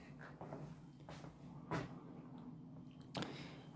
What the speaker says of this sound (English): Just get the dishwasher opened up for you just here so you can have a look.